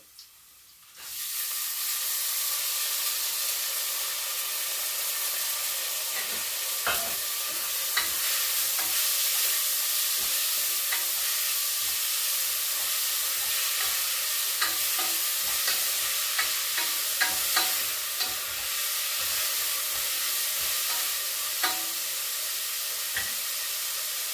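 Sprouted horse gram fries in a pan, a loud steady sizzle that starts abruptly and holds for the whole stretch, dotted with frequent stirring scrapes and clicks.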